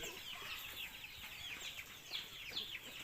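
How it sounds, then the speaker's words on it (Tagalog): Free-roaming chickens clucking outdoors, a steady run of short, fairly soft cluck calls with some squawky bursts, mid-distance and alone without talk. "Merong isang nakalabas na manok sa"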